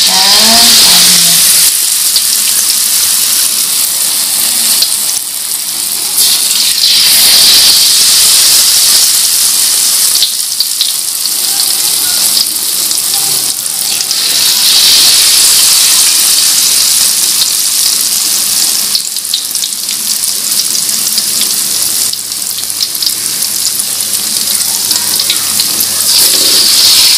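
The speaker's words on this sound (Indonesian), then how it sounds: "Minyak udah panas, kita masukkan ayamnya." Chicken pieces dropped into hot oil for crispy fried street snacks give a loud, steady, bright sizzle that runs for nearly half a minute without a break. No talking.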